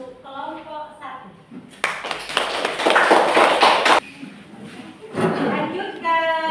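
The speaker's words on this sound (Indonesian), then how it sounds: "Silakan beri tepuk tangan untuk kelompok 1." Students in a seventh-grade maths class clap together for a group in a burst of close, loud clapping that stops, then resumes briefly, with a voice speaking at the start and the end.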